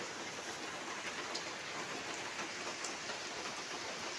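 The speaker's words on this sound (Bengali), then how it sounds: "সকাল সকাল বৃষ্টি শুরু হয়ে গেছে।" Morning rain falls steadily on a village during the late monsoon month of Bhadra, a soft, even patter on surfaces that stays faint and unbroken throughout.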